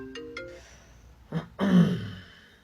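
A mobile phone goes off in a classroom with a short ringtone melody, brief tones at the start followed by a couple of louder throat-clear or cough-like bursts nearby.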